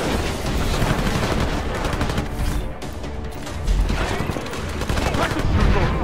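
Rapid gunfire and bursts of shooting during combat in Deus Ex: Mankind Divided, dense and continuous with loud booms and clatter throughout, no speech.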